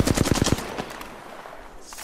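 Rapid automatic gunfire in a squad-based video game shooter, a loud close burst of quick shots at the start that breaks off into quieter scattered reports, with no speech.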